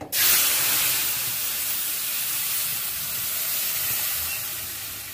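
A paste of ground cashew, raisin, poppy seed and melon seed hits hot oil with a sudden loud burst, then settles into a steady, close sizzle and hiss that runs on unbroken.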